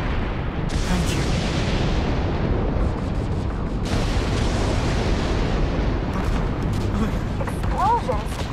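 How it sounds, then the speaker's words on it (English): A loud, sustained explosion roars in The Division 2, a dense rumbling blast that fills the scene. A second burst follows partway through, and faint voices sit beneath. "Explosion? What the hell?"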